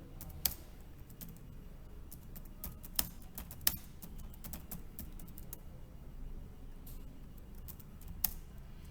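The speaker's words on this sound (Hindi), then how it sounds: "अब मैं कुछ टाइप करता जा रहा हूं" Rapid, irregular clicks of a computer keyboard being typed on, quiet and close, with scattered louder keystrokes over a low background hum.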